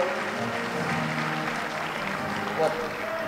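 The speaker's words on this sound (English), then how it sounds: "they have standing applause for you" A conference audience at the AdAsia 2017 event in Bali gives a standing ovation, a steady wash of many hands clapping at moderate distance, even and sustained, with faint voices underneath.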